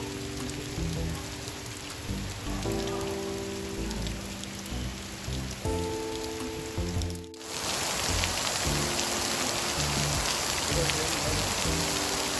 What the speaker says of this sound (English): And of course, the rain comes down on us